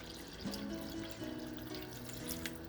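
Plain water poured into a pot while making chicken pepper soup, a quiet steady stream with a rising tonal gurgle as the pot fills, heard alone.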